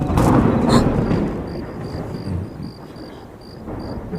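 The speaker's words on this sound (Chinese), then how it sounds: "朗朗晴空，雷声大作" A low, rumbling roll of thunder, loudest at the start and fading away, with faint high tones drifting above it.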